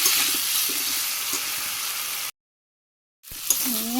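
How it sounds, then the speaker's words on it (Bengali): Beetroot frying in a pan with spices, a steady hissing sizzle that cuts out abruptly into silence for about a second, then resumes with stirring scrapes. "সুন্দর করে ভাজি করে নিচ্ছি আমি কষিয়ে নিচ্ছি"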